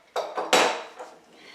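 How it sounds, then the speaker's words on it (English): Wooden clamps are removed from a violin's spruce bass bar in a luthier's workshop. Three or four quick, hollow clacks and knocks sound close by, then a faint last tap. "we're going to take the clamps off of this bass bar"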